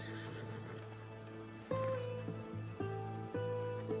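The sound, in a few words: horses pulling chariots in Assassin's Creed video game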